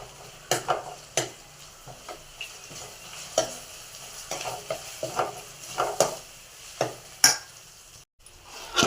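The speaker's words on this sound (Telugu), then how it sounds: "అల్లం వెల్లుల్లి పేస్ట్ వేగింది." Ginger garlic paste frying in a pan for cauliflower curry, with a soft sizzle under intermittent spatula scrapes and clanks against the pan.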